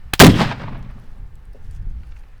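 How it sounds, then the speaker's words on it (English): Det cord detonation blowing apart a .50 cal barrel: a single sharp, loud blast with a short ringing tail fading into low rumble and outdoor ambience. "first strand of det cord, firing in 3"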